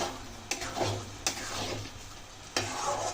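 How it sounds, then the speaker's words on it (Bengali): Carrot halwa is stirred in a pan after crushed cashews and raisins are added, with soft continuous scraping and a faint sizzle, punctuated by three sharp utensil clicks against the pan. "দিয়ে নিচ্ছি ক্রাশ করা কাজু আর কিশমিশ, দিয়ে আবারও একটু নাড়াচাড়া করছি"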